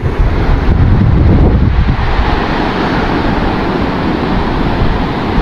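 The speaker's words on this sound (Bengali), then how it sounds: "অনেক গর্জন শোনা যেতেছে এখান থেকেই, বড় বড় ঢেউ।" Loud, continuous roar of surf and heavy wind rumble on Kuakata sea beach, Bangladesh, with big waves; steady and broadband throughout, no voices.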